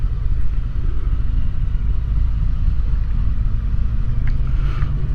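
A 2018 Harley-Davidson Sport Glide with a counterbalanced Milwaukee-Eight engine rumbles steadily on a road test ride, a loud continuous low drone mixed with wind noise throughout.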